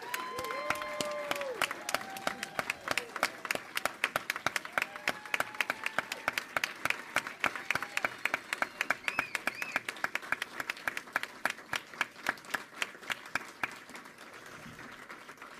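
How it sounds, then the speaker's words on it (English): An auditorium audience gives a 2019 graduating cohort a sustained round of applause at an educational leadership recognition ceremony, with dense steady clapping, brief whoops early on and a gradual fade at the end. "I would now like to ask the 2019 graduating cohort to stand so we can give them a final round of applause and"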